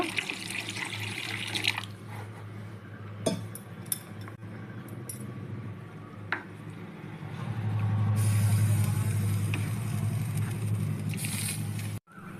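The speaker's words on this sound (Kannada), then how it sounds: "ಒಂದು ಎರಡು ಕಪ್ಪಷ್ಟು ನೀರು ಹಾಕೊಳ್ಳೋಣ" About two cups of water are poured into a pot with asafoetida and a split green chilli for sambar. A soft, continuous gush swells near the end among faint kitchen noises.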